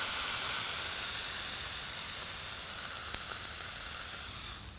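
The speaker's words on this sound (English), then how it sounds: "Rub some oil into the meat and place it in a preheated non-stick fry pan to brown on all sides." Oiled lamb browns in a preheated non-stick fry pan, giving off a steady, airy sizzle and hiss close by that fades slightly toward the end, with no one talking.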